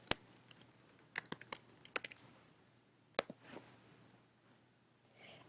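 A new folder name is typed on a computer keyboard: quick bursts of close, crisp key clicks with short pauses between them in a quiet room.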